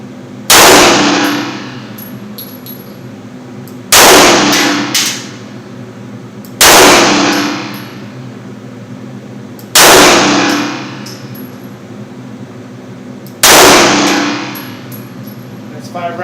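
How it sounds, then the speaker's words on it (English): Five loud, close gunshots from a Dan Wesson VBOB 9mm 1911 pistol fired indoors, each a sharp crack with a short ringing decay, spaced a few seconds apart. "So 5 rounds from about 4 yards with the Dan Wesson VBOB 9mm."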